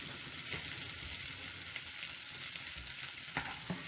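Slices of canned Spam frying in a pan give a steady, close sizzle with scattered sharp pops and spits, and no one speaks.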